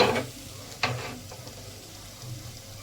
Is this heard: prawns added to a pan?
yes